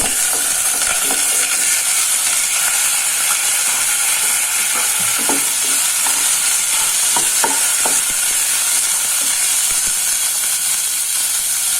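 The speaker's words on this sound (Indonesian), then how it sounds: "Dan untuk ayamnya saya masukkan" Chicken frying in a pan gives a loud, steady hiss and sizzle throughout, with faint scraping and stirring clicks underneath.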